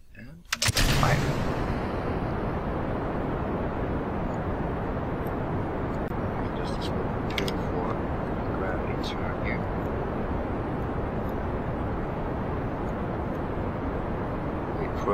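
Rocket engine firing at launch in Kerbal Space Program: a sudden loud ignition burst, then a steady, dense roaring rush that holds without pause, with faint clicks above it.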